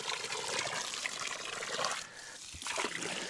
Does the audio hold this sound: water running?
yes